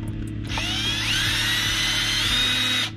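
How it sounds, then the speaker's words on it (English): A power drill with a quarter-inch bit bores a hole through the corner of a container fitted for a continuous ink system on an Epson 1430 printer, a steady high whine running loud and close for about two and a half seconds. "So we're gonna be using a quarter inch drill bit. Let's go ahead and drill it through."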